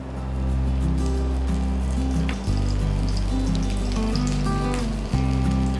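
A dosa cooks in oil on a hot pan, giving a steady crackling sizzle that runs throughout, under a low sustained hum with a couple of brief dips, and no talk.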